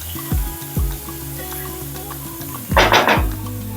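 Chopped onion tipped into hot oil with mustard seeds, cumin and curry leaves for a traditional Brahmin mixed-vegetable curry: a steady sizzle with a few clanks of a spoon and a louder surge of frying toward the end.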